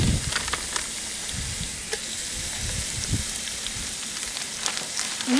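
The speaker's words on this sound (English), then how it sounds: "First thing I'm going to do is brown my sausage." Ground sausage browns in a cast iron Dutch oven, a steady close sizzle and hiss of frying meat with occasional stirring scrapes and pops.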